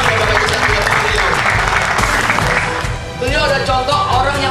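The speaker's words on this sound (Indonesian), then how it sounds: "Tepuk tangan Bapak Ibu sekalian beliau" An audience at an indoor training kickoff event claps in sustained applause, a dense, loud, continuous patter that dips briefly before resuming with some voices mixed in.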